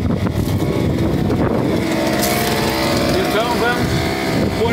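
A brush cutter slashing through weeds and scrub, its small engine running loud and continuous with a rough drone and rising, whining pitch sweeps throughout.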